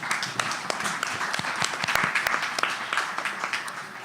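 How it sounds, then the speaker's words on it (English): A full house at an Altadena town council meeting breaks into steady applause, a dense crowd of claps sustained at moderate loudness throughout. "please give yourselves a round of applause"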